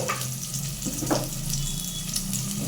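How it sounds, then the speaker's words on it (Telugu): Chopped onions fry over a low flame in a pan, giving a soft continuous sizzle with a few light scrapes and taps close by. "స్లోగా సిమ్లో పెట్టుకొని వీటిని మంచిగా ఫ్రై చేయాలి."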